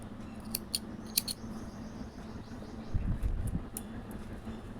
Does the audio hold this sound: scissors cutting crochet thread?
yes